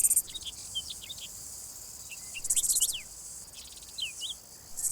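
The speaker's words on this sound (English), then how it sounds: "Especially the grasshoppers." Grasshoppers in sun-heated Spanish pine and shrub scrubland in July, bursts of high buzzing stridulation coming and going, with scattered short chirps and bird-like calls over a quiet background.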